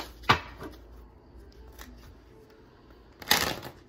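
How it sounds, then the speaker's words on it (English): Two quick riffles of cards being shuffled, a brief flutter early on and another a few seconds later, close and moderately loud. "Oops, that was an ugly shuffle."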